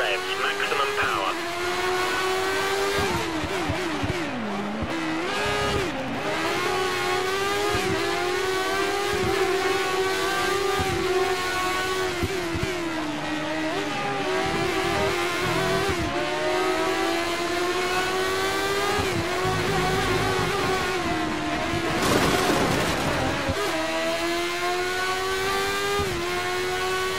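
Lotus 100T Formula One race car engine in a racing video game, screaming at full revs with steady high-pitched harmonic whine, brief pitch dips on gear changes and lifts, continuous and loud throughout.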